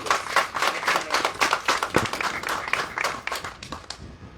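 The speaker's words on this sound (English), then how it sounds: "So big round of applause for Danny, please." A gathered crowd gives a business owner a round of applause, many hands clapping in a lively, uneven patter that holds strong and then thins out toward the end.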